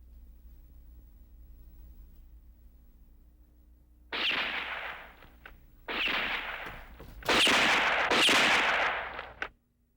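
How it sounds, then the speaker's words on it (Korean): Gunshots in a Korean historical drama: several loud, sharp bursts ring out one after another over a quiet low hum, the later ones harsher and closer together before cutting off. "뭐야, 총소리?"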